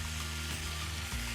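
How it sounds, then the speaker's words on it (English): Quartered raw onion dropped into a hot pressure cooker insert sizzles and fries steadily, a close, continuous crackle with a low hum underneath and a brief shift as pieces settle. "Now I'm also gonna add an onion that I peeled and cut into quarters."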